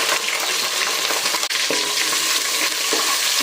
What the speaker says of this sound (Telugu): మీడియం సైజువి రెండు ఉల్లిపాయలు ఆరు పచ్చిమిర్చిని కట్ చేసి వేసుకుంటున్నాను